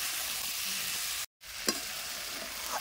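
Jackfruit curry being stir-fried in a pan gives a steady close sizzle, broken by a brief silent gap, then a spatula scrape and continued frying, with no voices.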